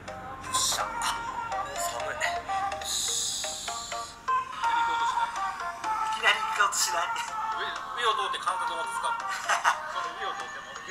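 Music plays through the thin-sounding built-in speakers of a CHUWI CoreBook XPro 15.6-inch laptop at maximum volume, with a singing voice and little bass, steady at moderate loudness throughout.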